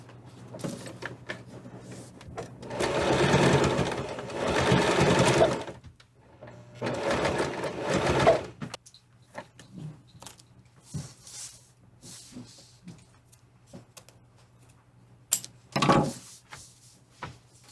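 A sewing machine stitches a fabric zip pouch in bursts, three longer runs of steady motor whir separated by pauses, with small handling clicks and a short final burst, close and moderately loud.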